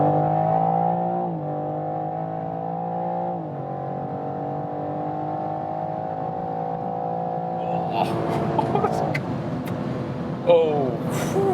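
A BMW M4 accelerating on a winding road, its engine note rising steadily with harmonic drone and gear-change dips, then rougher bursts near the end as the car pushes harder; a voice is briefly heard over it.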